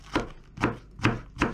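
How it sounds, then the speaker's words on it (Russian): A knife strikes a cutting board four times in an even rhythm, close and crisp, as a pepper is sliced into strips. "Перец нарезаем соломкой."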